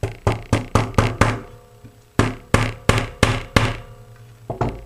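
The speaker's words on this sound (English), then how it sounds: "and then just hammer these in" Hammer blows drive staples into a wall to hold artwork-hanging supports: a quick run of about six sharp, close knocks, a pause, then another steady series of five or six strikes, with a lighter tap near the end.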